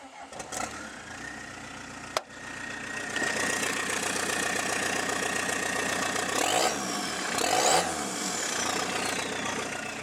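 A car engine with no exhaust fitted, in a workshop, starts up and runs loud and raw, idling with a couple of revs swelling near the end.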